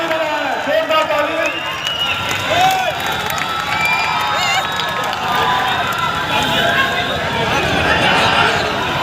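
A dense outdoor crowd at a Muharram gathering claps and cheers for the district collector, a steady roar of applause and shouting voices filling the whole stretch, with children's shouts mixed in.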